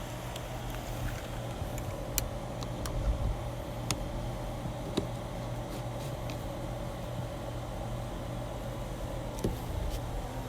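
Car ride interior with a steady low engine and road rumble, quiet and continuous, with a few faint clicks and knocks.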